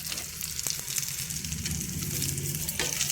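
Cashews and roasted gram dal fry in a hot pan with a dense, even sizzle and a few soft stirring clicks close at hand, with no voices.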